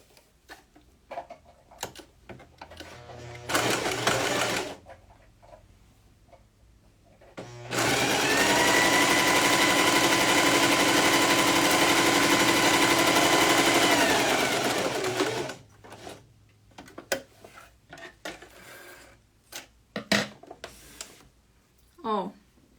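A sewing machine stitches a seam along fabric, with a short burst first and then a long, steady, close mechanical whir lasting several seconds. Light handling clicks and fabric rustles come before and after the running.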